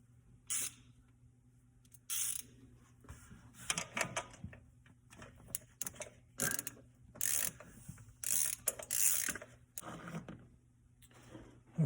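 A ratchet wrench clicks in short, close bursts while the carburetor is removed from a 1967 Camaro, with quiet pauses between each run of turns.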